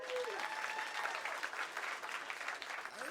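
Audience at a comedy club show applauding and cheering in response to a stand-up comic's question, a continuous fairly soft roar of clapping with a few whoops and voices mixed in.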